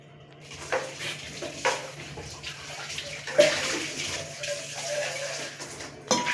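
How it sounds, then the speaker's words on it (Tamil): Water poured into a pot of chicken biryani being cooked at home, a gushing splash with scraping and clinking of utensils against the metal pot, close and moderately loud. "பிரியாணி அளவுக்கு தண்ணி கொஞ்சம் சேர்த்துக்கலாம்."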